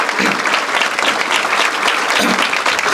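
An audience claps steadily throughout, dense and continuous, applauding a student author standing at an MPSC exam-preparation motivational talk; no speech, the applause stays loud and even to the end.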